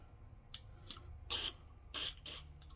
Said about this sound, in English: now I'm going to spray some carb cleaner down in the holes where they go